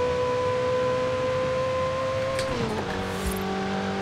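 A 1400hp Ferrari J50's engine holds a steady high droning tone in Forza Horizon 5, then drops in pitch as it shifts down a gear, loud and continuous with no voices.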